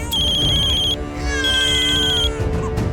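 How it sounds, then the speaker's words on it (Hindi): A phone ringtone plays in repeated bursts of bright electronic tones, loud and close, with a short pause between patterns. "अब किसका फोन आ रहा है?"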